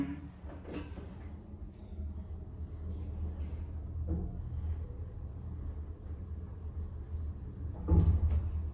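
Elevator doors slide open in a Keighley Mod Elevation lift in a department store, a low rumbling slide with soft clunks at the start and a firmer thud at the end, fairly quiet.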